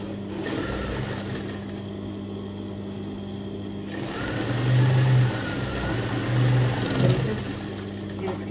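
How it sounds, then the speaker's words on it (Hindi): Sewing machine stitching over folded fabric for a child's dungarees: a steady mechanical whirring run with a brief pause partway, then louder bursts of rapid stitching, close up, with a voice talking at times. "फोल्ड करने के बाद इसके ऊपर हम सिलाई चलाएँगे।"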